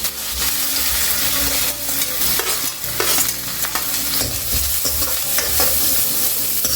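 Chopped ginger and garlic sizzle and crackle in hot oil while a utensil stirs and scrapes the pan, a steady loud frying hiss throughout.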